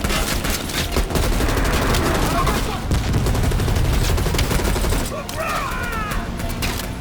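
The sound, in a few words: gunfire in the Call of Duty video game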